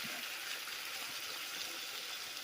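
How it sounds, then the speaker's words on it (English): Vegetable broth pours from a carton into a pot of vegetarian sweet potato soup, giving a steady, soft, continuous liquid rush with no break. "I'm just going to add the vegetable broth"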